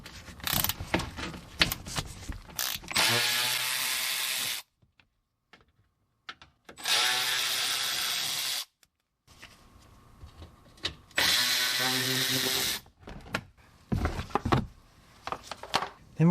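A power tool, an impact driver or ratchet, runs in three bursts of a few seconds each, taking out the 8 mm bolts that hold a cover during control arm replacement on a 2010–2016 Buick Lacrosse, Regal or Chevy Malibu, with clanking tool handling in between.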